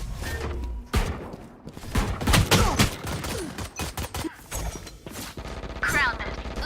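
Rapid bursts of Bandit gunfire in a Valorant pro match, sharp cracks in quick succession mixed with clatter, impacts and game effects, with talk over the action.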